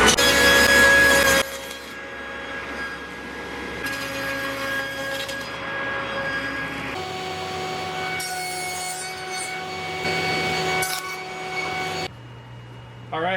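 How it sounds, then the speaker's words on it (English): A table saw fitted with a dado stack cuts wood for a farmhouse table, a loud steady whine broken into several cutting passes with changes in pitch as the blade bites and spins down. "The dado stack works extremely efficiently."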